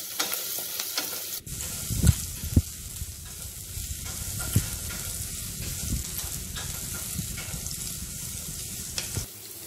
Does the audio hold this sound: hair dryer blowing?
no